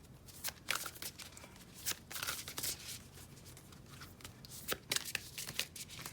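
A new tarot deck is shuffled by hand in close, soft bursts of riffling and card slaps, with brief pauses between shuffles.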